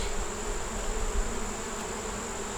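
Honey bees buzz in a hive, a dense, continuous droning hum close by without any voices.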